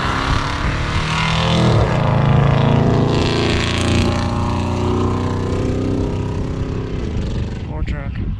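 An old truck driven hard, its engine roaring loud and close with rising, straining revs that swell and hold for several seconds before easing slightly near the end.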